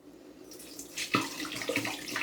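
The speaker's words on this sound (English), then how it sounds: "I'm just going to put a bit of water in the bowl to stop the smell from coming up" Water poured into a toilet bowl in a bathroom, a steady splashing pour that builds and keeps running with bright gurgling spatters, close and heard alone.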